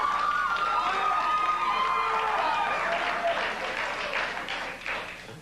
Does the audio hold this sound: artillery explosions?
no